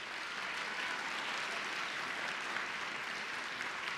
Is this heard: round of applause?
yes